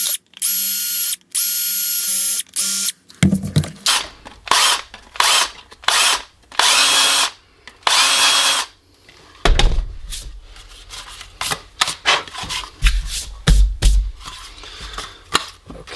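Drill bit boring holes in a Kydex holster for a Canik TP9 SFx, heard as a series of loud, close bursts of whirring and grinding that start and stop repeatedly, followed by quieter clicks and handling noises.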